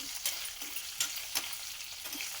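Dried red chillies frying in a pan with green chillies for a coriander tomato chutney, a soft hissing sizzle with a few scraping stir strokes, close and without speech.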